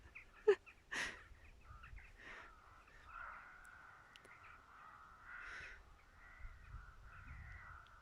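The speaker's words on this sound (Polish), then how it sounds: "lecą wrony w ogóle i teraz hałasują" Crows caw at a distance, a few harsh calls scattered over several seconds against quiet background noise.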